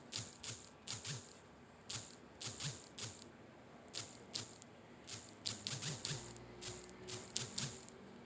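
Keyboard keys clatter in short irregular bursts while an email address is typed, the clicks close and fairly quiet, with brief pauses between groups of keystrokes and no talking.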